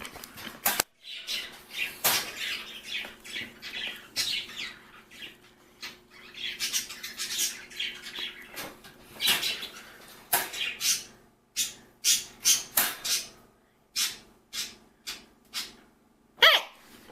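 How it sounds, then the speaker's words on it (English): Pet bird squawking inside its cage, loud close sharp calls repeated in an irregular run with rustling and rattling between them, the squawks growing more rhythmic toward the end. "You can squawk all you want, but you're not getting out."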